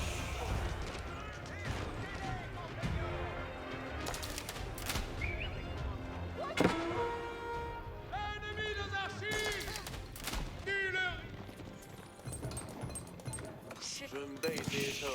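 Cannon and defensive emplacements fire away in an Age of Empires 4 match between French and Chinese armies, dense battle noise with repeated booms and clattering hits under constant commentary.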